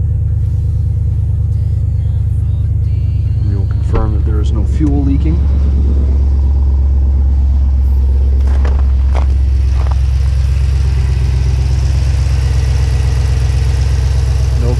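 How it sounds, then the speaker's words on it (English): Jeep SRT after an E85 conversion kit install, its engine idling with a steady deep rumble close by for the whole stretch, while someone talks over it and a few brief clanks sound. "And now we will start the vehicle a third time."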